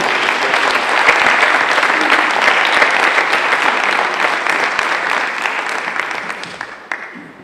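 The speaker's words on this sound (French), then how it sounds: "Je vous propose de les applaudir, c'était pas facile pour elles." An audience at a rural women's day event applauds a group of female students, with steady dense clapping that holds for several seconds and then gradually thins and fades out at the end.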